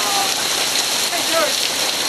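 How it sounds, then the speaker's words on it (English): Heavy tropical rainstorm in Belize, with dense, steady hiss of rain pouring onto surfaces and a roof, loud and constant across the whole stretch with no clear voices. "That's a tropical rainstorm."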